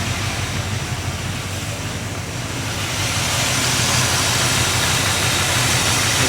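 A car engine idles smoothly and steadily, fitted with a Summit crankshaft harmonic balancer and a FlowKooler water pump. The engine sounds close and continuous, growing slightly louder partway through, with no one talking.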